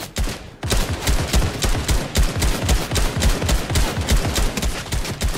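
Rapid automatic AK rifle fire in Fortnite Battle Royale, a dense, loud stream of evenly spaced gunshots that begins after a brief pause and carries on without stopping.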